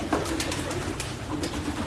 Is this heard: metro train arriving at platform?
no